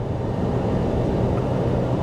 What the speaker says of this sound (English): The exhaust got a lot quieter.